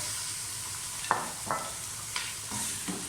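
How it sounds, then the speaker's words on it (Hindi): Meat frying in oil with ginger and garlic for a spiced aloo gosht, a steady broad sizzle running throughout with a few sharp stirring scrapes and spatters rising above it, close and fairly quiet. "गोश्त हमने इसमें ऑयल में डाल के उतनी देर भूनना कि गोश्त का कलर चेंज हो जाए।"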